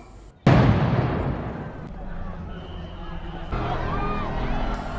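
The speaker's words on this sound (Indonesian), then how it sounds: "tiba-tiba terdengar suara tembakan di luar gerbang." Gunfire erupts outside a compound gate in a film set in Somalia, with a loud sudden burst followed by rumbling, scattered shots and commotion under a narrating voice.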